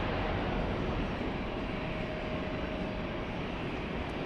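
A Delta airliner, flight 2049 from Orlando, taxiing at JFK in New York, a steady broadband jet engine roar, distant and even throughout, with no voices.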